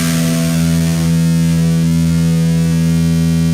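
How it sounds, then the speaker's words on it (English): A heavily distorted electric guitar note sustains loud and dense for several seconds with almost no decay, holding near the strength of its initial attack, with no talking over it. "a distorted one lasts a lot longer and at a much more similar intensity to the initial attack"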